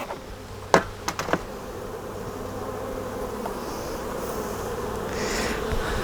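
Honey bees buzz steadily around scale hives during swarm season, a dense continuous hum near and loud, with a few sharp clicks of hive handling early on.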